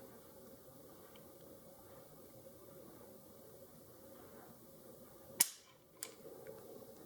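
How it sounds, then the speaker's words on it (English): A single sharp, loud metallic snap rings out as the trigger of a Browning BDM pistol is pulled in single action and the hammer falls, followed by a fainter click, over a quiet steady background hum. "Let's see if I can get a trigger pull on this in single action."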